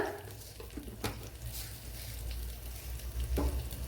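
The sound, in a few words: cumin seeds sizzling in hot coconut oil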